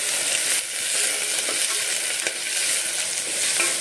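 Potatoes, carrots and green peas fry in a pan with loud, continuous bright sizzling, broken by a few scraping stirs of a spoon, close and without voices.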